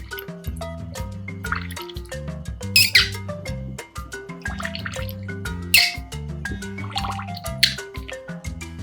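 Water poured into a floating Sesame Street Abby Cadabby bath toy, small splashes and drips over steady cheerful background music with squeaky toy-like accents throughout.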